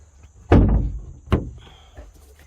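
A shock-assisted storage hatch on a 2024 Xpress X19 Pro bass boat thuds shut with a solid bang, followed by a second lighter knock about a second later, then quiet.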